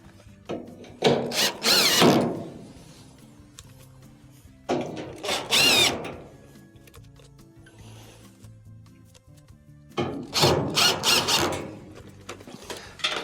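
A power drill drives Phillips screws into the bracket of an LG dryer during repair, giving three separate whirring bursts of a second or two each, with a rising squealing pitch, close by, and quiet gaps between them.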